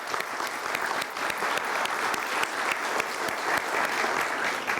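An audience at the 87th national coffee congress applauds, a dense, continuous crowd of clapping that stays loud and close for several seconds.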